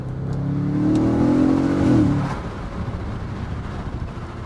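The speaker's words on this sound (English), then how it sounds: "I don't know if you can hear the exhaust here" An Audi RS4 Avant B8 4.2 V8 revs up loudly through its exhaust, rising in pitch for a couple of seconds before dropping back to a rough idle rumble.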